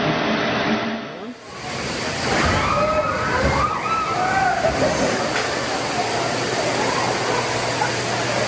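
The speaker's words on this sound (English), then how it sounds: "a powerful surge of water breaks through the mall roof, flooding everything below" A powerful surge of water breaks through a mall roof and floods the space below, making a loud, continuous roaring rush with heavy sloshing that swells and churns throughout.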